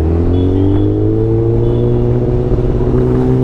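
A new motorbike's engine revs steadily up close, a loud continuous rumble with strong droning harmonics that hold level and rise slightly, with no voices over it.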